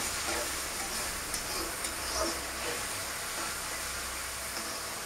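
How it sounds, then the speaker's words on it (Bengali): Onions frying in a pan with dry spices for a home-style chicken curry, a steady broadband sizzle and hiss with faint stirring scrapes, continuous and close throughout. "এখন আমি পেঁয়াজটাকে ভালো করে ভেজে নেব"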